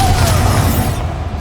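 A Bombarda spell explodes during a spell duel in Hogwarts Legacy, a loud, dense blast that rumbles without a break for just over a second.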